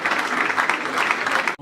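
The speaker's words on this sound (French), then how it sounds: "je vais tous vous demander d'applaudir les parents" An audience at a football club's annual general assembly applauds, a dense, even burst of clapping that stops abruptly near the end.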